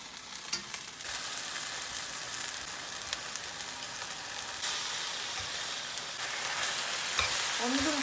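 Seasoned beef bulgogi frying in a pan, giving a steady, dense sizzle that carries throughout with small pops and crackles and swells slightly louder toward the end, with no voices.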